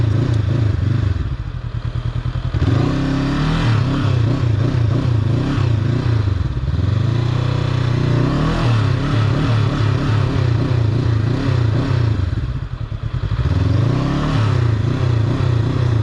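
A motorcycle on slow-riding practice repeatedly pulls away and accelerates up close, its engine rising and falling in loud revving surges over a steady low rumble with occasional clattering.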